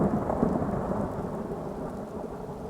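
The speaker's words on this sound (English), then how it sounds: "This rain will stop eventually." Steady heavy rain in Skyrim hisses with a low rolling rumble of thunder underneath, constant and fairly muffled throughout.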